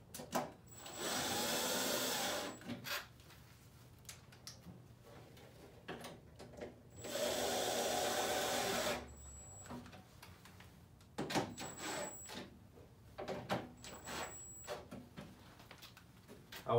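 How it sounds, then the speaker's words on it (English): Impact gun installing bolts on a panel cover, two loud buzzing bursts of a couple of seconds each, followed by shorter clicks and brief whirs of the tool, with no talking. "I can get the other bolts and my impact gun"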